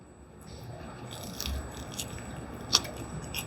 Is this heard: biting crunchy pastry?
yes